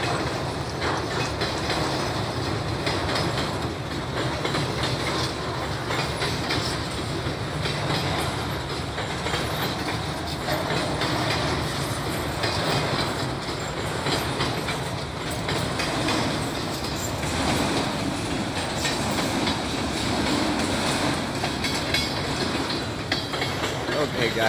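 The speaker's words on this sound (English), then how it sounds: "this train's about 50 miles long" A long train rolls past close by, a steady loud roar of wheels with rhythmic clickety-clack over the rail joints throughout.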